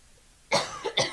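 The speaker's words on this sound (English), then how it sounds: "In choking coughing." Two or three sharp, harsh coughs in quick succession after a brief quiet moment, close and fairly loud.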